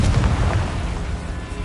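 Confringo fire spell explosion in Hogwarts Legacy, a loud low boom at the start that rumbles and decays over about a second and a half, heard alone without talk.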